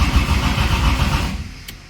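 A Hemi 6 Pak Charger with a solid cam fires up after sitting unused for a couple of months, giving a loud, dense engine roar that fades away over about two seconds.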